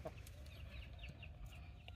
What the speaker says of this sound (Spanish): Y que unos pollos y unos patos.